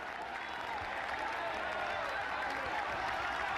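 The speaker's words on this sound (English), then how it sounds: "listen to the roar of the crowd" A roaring crowd lines a cycling race climb in the Basque Country, a dense steady wall of cheering and shouting that stays loud and unbroken throughout.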